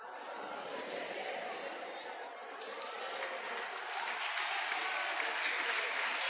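Congregation applause at a church's third-anniversary service, a broad steady clatter of many hands that swells louder about halfway through, with crowd chatter and voices mixed in.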